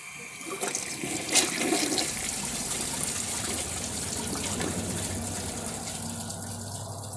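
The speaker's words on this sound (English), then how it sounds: "Now I'm going to put the washcloth in and give it a flush." A 1974 American Standard Cadet toilet flushing with a washcloth in the bowl, a steady close rush and gurgle of water that swells early and then runs on evenly without much change.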